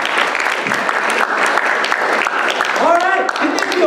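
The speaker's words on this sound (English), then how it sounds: "Give yourself a round of applause." Audience applause at a club seminar, a dense steady wash of many hands clapping throughout, with a voice briefly speaking over it near the end.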